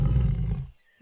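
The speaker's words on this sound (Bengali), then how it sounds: "সিংহ বলে গর্জন" Cartoon lion roar, a loud, rough growling blast that holds steady for most of a second and then cuts off into silence.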